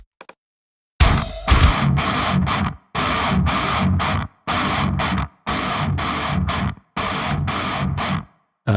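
Heavily distorted, gritty bursts repeat in evenly spaced chunks with short silent gaps, harsh and loud throughout.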